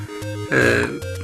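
Tinny built-in speaker of a Game Boy Color handheld, giving a short buzzy electronic tone with a brief rougher, crackly burst in the middle, heard close and alone.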